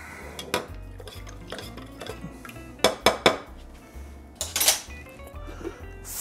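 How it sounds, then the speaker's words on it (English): A spoon clinks and scrapes against a container while lime juice concentrate is stirred into a zero-carb lime cordial mixer. The clinks and knocks come in irregular bursts, loud and close, with no talking. "And let's stir that up."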